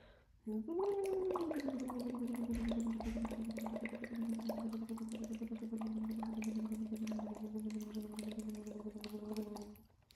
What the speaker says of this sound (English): you see how I'm making consistent bubbles? That's what we want to do.